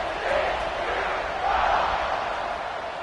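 Football stadium crowd roaring steadily just before kickoff at a TCU vs K-State game, a dense wash of cheering that swells slightly midway and holds loud throughout.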